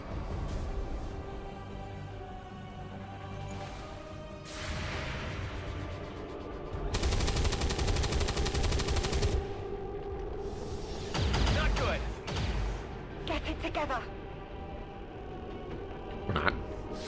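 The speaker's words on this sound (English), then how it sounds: "Should get some nice Overwatch shots on this." Gunfire from XCOM 2: War of the Chosen, Overwatch reaction shots against a charging zombie, breaking out in loud bursts over layered game music and ambience, with a dense volley in the middle and another later.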